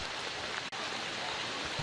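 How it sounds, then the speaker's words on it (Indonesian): Heavy rain pours down in Karangasem, Bali, during a long day of intense downpour: a steady, dense hiss of falling water fills the whole stretch without pause, with no voices. "saat ini hujan terus turun dengan intensitas tinggi dari pagi hingga malam hari"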